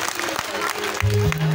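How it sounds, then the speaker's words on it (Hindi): An audience at a religious gathering claps to welcome a guest, a steady patter of applause heard near, with a voice speaking over it and a low sustained tone entering partway. "जरा तालियां बजाकर स्वागत करेंगे"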